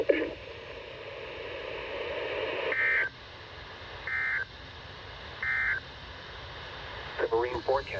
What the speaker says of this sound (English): The following tones will conclude this test.